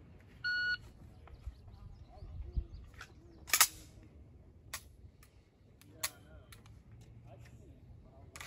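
Pistol gunshots ring out during a target transition shooting drill at an outdoor training session, with several sharp reports spaced irregularly, some near and loud, others fainter, plus a few beeps and background noise.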